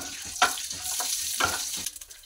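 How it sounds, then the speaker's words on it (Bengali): Dried chilli, cumin, fenugreek, fennel and mustard seeds fry together in hot oil, a quiet crackling sizzle broken by a few louder pops and stirring scrapes. "মশলাটাকে হালকা করে ভেজে নেব।"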